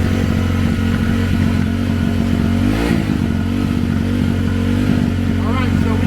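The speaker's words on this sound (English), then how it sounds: "Alright, so we got the bike running now." A YCF pit bike fitted with an aftermarket exhaust idles steadily up close, its engine note holding a rough, even drone with a brief blip of throttle partway through while someone talks over it.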